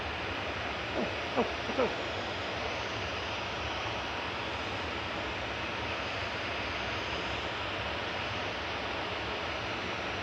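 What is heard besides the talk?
Singapore Airlines plane landing at Manchester Airport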